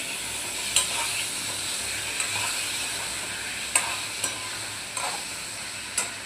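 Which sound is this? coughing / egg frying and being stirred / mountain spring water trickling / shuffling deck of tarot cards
egg frying and being stirred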